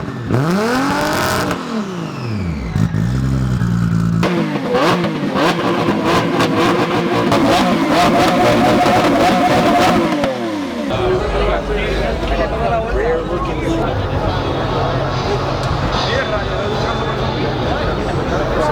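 Nissan Skyline R34 and Toyota Supra engines revving hard at a car show, loud close rev sweeps climbing and dropping, then sustained high revving and a rougher idle, with voices talking throughout.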